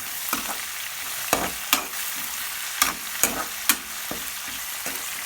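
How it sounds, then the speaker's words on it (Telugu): Curry leaves fry in a hot pan for upma, with a steady sizzle broken by several sharp scrapes and knocks of a spoon stirring at an irregular pace. "కరివేపాకు కూడా అయితే వేసుకుంటున్నాను. మొత్తం అయితే ఒకసారి అయితే ఫ్రై చేసుకున్నాం."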